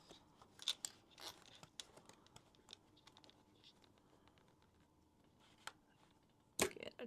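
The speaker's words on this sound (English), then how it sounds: "So you go around, cut all your stitches off." Scissors snip stitches off a sewn fabric box, giving scattered small clicks and crisp snips, with one louder cut near the end, all fairly faint and with no talking.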